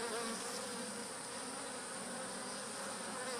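Dense, continuous buzzing of many honeybees around an opened hive, an unbroken close-up hum with no voices.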